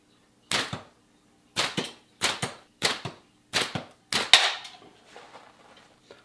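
A homemade slingshot with rubber tubes fires shots outdoors in Maine: six sharp snapping releases spaced about a second apart, each a crisp crack with a short decaying tail, the last one louder and followed by faint rustling.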